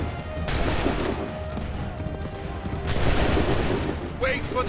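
Musket volley in Assassin's Creed III, a dense burst of overlapping gunshots followed by rolling reports and a second ragged volley, loud and close amid battle noise and shouting voices.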